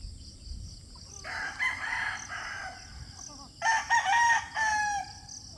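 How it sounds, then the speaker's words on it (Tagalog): Young five-month-old rooster (stag) crowing twice nearby, each cock-a-doodle-doo clear and loud over a steady outdoor background, with a soft cluck between calls. "ang ating stag. Bagong stag. 5 months pa lang ito."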